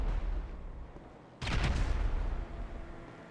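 A sudden explosion in a GTA roleplay game, a loud close blast with crackling debris that follows a quieter stretch and then rumbles away over a couple of seconds.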